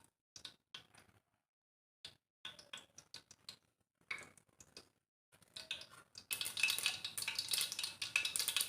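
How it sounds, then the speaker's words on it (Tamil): Mustard seeds in hot oil for mutton kulambu, first a few scattered faint pops, then a sudden dense, busy crackling and spitting that carries on to the end. "கடுகு நல்லா பொரிஞ்சிருச்சுங்க"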